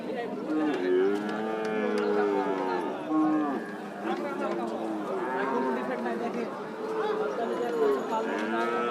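Cattle low and moo repeatedly at a busy livestock hat in Rajshahi, the calls close and loud over a steady crowd murmur, with people talking throughout.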